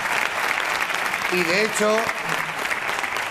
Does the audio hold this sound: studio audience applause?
yes